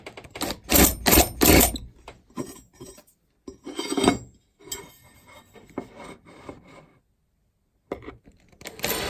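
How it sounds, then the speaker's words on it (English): A countersink deburring the holes in a bandsaw rail, producing short scraping and rasping bursts in uneven spurts with brief pauses between them, close and fairly loud. "I'm just using the countersink to deburr the rail holes as well"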